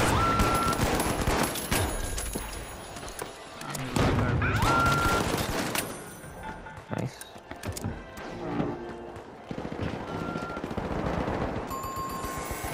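Turret gunfire in a video game: rapid bursts of automatic fire rattle on and off, loud and close, with shorter pauses between them, while players talk over the shooting.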